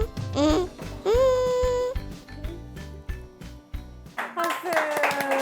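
Children clap in a steady rhythm at a kids' play-education show, with high childlike voices singing and calling out over the claps throughout.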